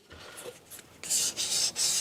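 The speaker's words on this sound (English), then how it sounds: "These edges don't need a lot of sanding because they're already fairly smooth." Hand sanding on wood: a few soft scratchy strokes, then three longer, louder rasping passes in a steady back-and-forth rhythm, close up with no talk.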